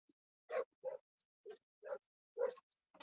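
Dogs bark in a quick series of about six short, sharp yips and barks, fairly faint and somewhat distant, with no talking.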